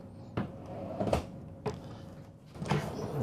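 Deep kitchen drawer in a 2024 Newmar Dutch Star 4369 RV sliding out on its runners: a few soft, quick rumbling slides and knocks spaced apart, fairly quiet, with no talking.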